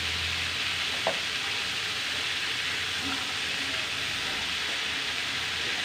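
Green fried rice being stirred in a hot pan, a steady close sizzle with faint scraping, continuous and alone for a few seconds.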